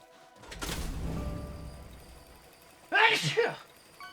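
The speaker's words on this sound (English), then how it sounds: "I feel like I'm gonna sneeze really hard" One hard sneeze bursts out near the end, sharp and loud after a stretch of quieter rumbling noise, from a person streaming Hollow Knight: Silksong.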